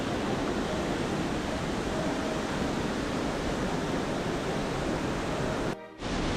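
A waterfall on the Trail of Ten Falls at Silver Falls State Park, Oregon, roars as a steady, dense broadband rush, loud and close, cutting off abruptly near the end.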